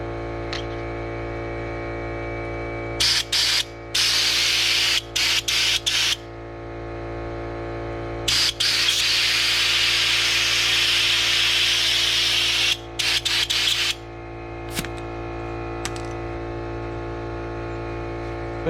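Loud bursts of hissing blast from a media blaster spraying abrasive media on parts of a 1970 Ford F250 dually, several short sprays then longer ones over a constant compressor drone, close by.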